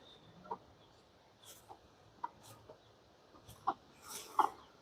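Medium-sized adult chickens cluck in short, scattered bursts over about five seconds, fairly quiet with a louder call near the end, against low background noise.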